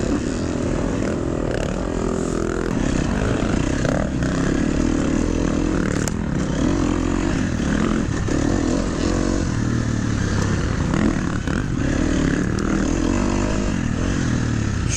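A dirt bike engine in a hare scramble race at Budds Creek MX, loud and close, with continuous revving and shifting throttle throughout.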